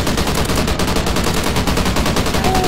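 Ameli light machine gun in the video game Strikezone firing a continuous, loud, rapid burst that runs unbroken through the whole moment, with no talking.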